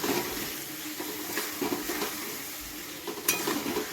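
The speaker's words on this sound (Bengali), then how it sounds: "মশলাটাকে ভালো করে কষিয়ে নেব।" Vegetables and spices being sautéed in a pan with a little water for a Bengali tangra fish curry, giving a steady, soft sizzle with light stirring scrapes and a few small utensil taps throughout.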